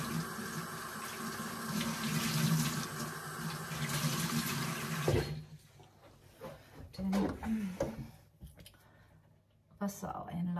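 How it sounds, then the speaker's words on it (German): Tap water runs steadily into a washing machine inlet for about five seconds, a broad rushing hiss, then cuts off, leaving quiet handling noises and faint knocks afterward. "Wassereinlauf hier."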